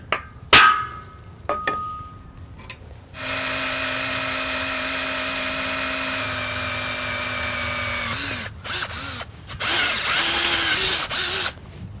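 A power drill whines steadily for several seconds into steel rail, preceded by a few sharp taps and followed by bursts of drilling and clatter.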